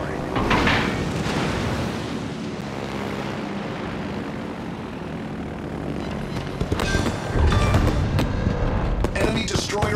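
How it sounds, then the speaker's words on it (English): Naval battle in World of Warships as an enemy destroyer goes down, with rumbling explosions and booms mixed with droning aircraft propeller engines, building to a louder burst of blasts near the end. "Enemy destroyer sunk."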